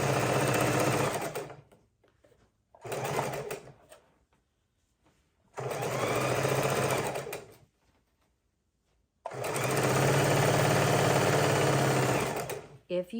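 A sewing machine stitches quarter-inch seams on a four-patch baby quilt in several loud, rapid whirring bursts of one to three seconds. Quiet pauses fall between the bursts, and a voice talks over part of the sewing.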